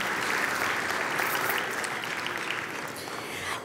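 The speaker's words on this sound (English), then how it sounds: "we have to give them another round of applause" An audience at a live philanthropy awards event applauds steadily, a dense, even clapping that holds for several seconds and eases slightly toward the end.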